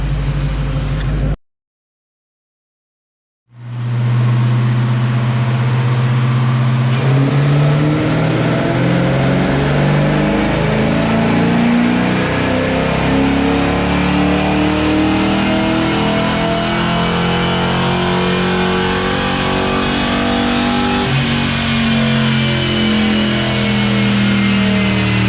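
A Foxbody Mustang fitted with GT40P heads roars through a dyno pull after a brief silence. The engine pitch climbs steadily as it revs hard and loud up the range, close and continuous, with no talk over it.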